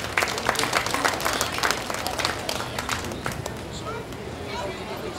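An audience at a cattle show applauds two heifers, a steady patter of clapping mixed with crowd murmur and voices, tapering off gradually toward the end.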